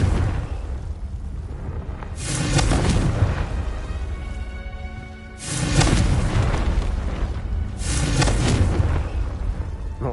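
Confringo fire blast spells from Hogwarts Legacy go off in three loud, booming explosions a few seconds apart, each a heavy roaring burst trailing into crackling rumble.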